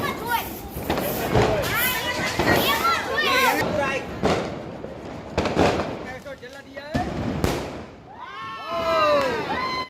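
Diwali sky shot fireworks go off in a rough series of sharp bursts and whistling streaks, with children shouting and talking excitedly around them.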